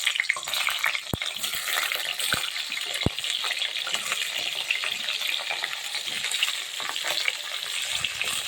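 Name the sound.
ridge gourd frying in hot mustard oil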